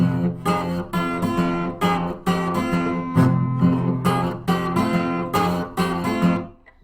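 An acoustic guitar plays a quick fingerpicked blues rundown on the high strings in repeated rhythmic bursts, bright and close, ending on a fading final chord.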